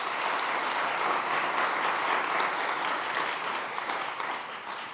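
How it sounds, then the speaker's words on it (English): Steady, sustained applause from a large conference audience for a food summit panel, a dense even wash of many hands clapping that holds for about five seconds before slowly easing. "Please give them all a round of applause."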